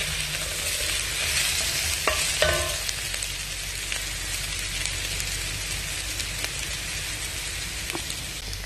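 A spoon scrapes and stirs dark, well-caramelized mirepoix in a pan, giving a steady close sizzle with a few sharper scraping clicks near the start and no voices.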